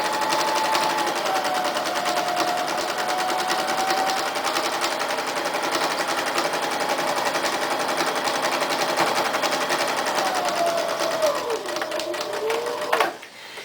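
A sewing machine stitches through an oven mitt and its batting, a rapid, steady mechanical chatter close by that runs almost without pause, with a faint voice murmuring underneath.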